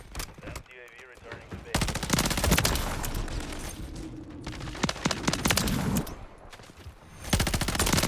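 Rapid bursts of light machine gun fire in the video game Modern Warfare 3, loud stuttering volleys with short pauses, with a voice talking between the shots.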